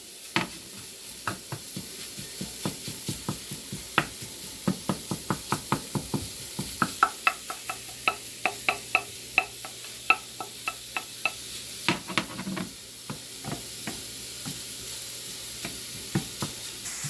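Ground meat sizzles steadily in a frying pan while a utensil scrapes and knocks against the pan in a regular stirring rhythm, close and continuous with no talk.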